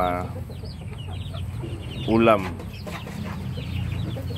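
Native chickens cluck and chatter on a farm, a few short calls rising briefly over steady yard noise while a person speaks nearby.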